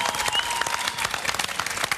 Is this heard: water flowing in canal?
no